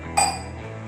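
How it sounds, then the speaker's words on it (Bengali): A lid set down on a cooking pot of potato chicken with poppy seed gives one bright metallic clink, ringing briefly and fading into low kitchen hum. "এবার আমি এটাকে ঢাকা দিয়ে দেবো, মাঝে মধ্যে নাড়তে থাকবো।"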